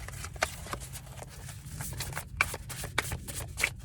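Tarot cards being shuffled by hand, close and soft, a run of quick papery riffles and light taps with small clicks spaced unevenly through a few seconds.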